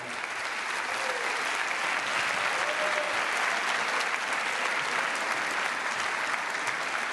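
An audience applauds at a notaries' congress in a large hall, giving dense, continuous clapping that holds at an even level throughout.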